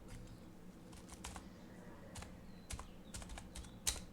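Quiet typing on a computer keyboard, irregular clusters of soft, close key clicks with short pauses between bursts, no talking.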